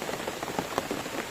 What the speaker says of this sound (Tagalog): pero di natin inasahan yung malakas na ulan